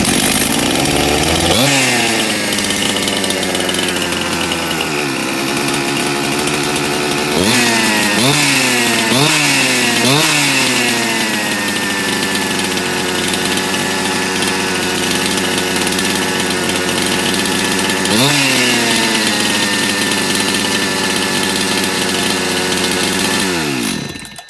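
A nearly 30-year-old Husqvarna 268 chainsaw with a rebuilt engine runs loud and close, idling with a steady buzz and revving sharply several times in quick succession, with no voices.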